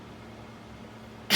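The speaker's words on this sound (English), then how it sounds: "I think I'm gonna have to sneeze." A single sharp sneeze bursts out near the end, loud and close, after a stretch of quiet room hum in a home crafting space.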